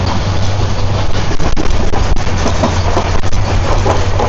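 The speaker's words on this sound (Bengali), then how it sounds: "দূর থেকে দেখতে পাচ্ছি ট্রেন আসছে" A train approaches along a double-track railway line, a steady loud rumble with wind buffeting and faint rail clatter, with no talk.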